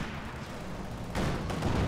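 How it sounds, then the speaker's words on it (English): A machine gun fires in a Company of Heroes 2 battle, a dense roar of gunfire that swells louder partway through amid the noise of combat. "Opening fire with the MG on target."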